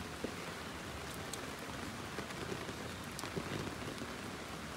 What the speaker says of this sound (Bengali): গরুটি বৃষ্টিতে ভিজা।